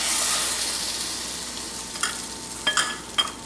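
Egg-soaked cinnamon bread fries in a pan with a soft, steady sizzle, joined late by a few sharp clicks and scrapes of a utensil; no one speaks.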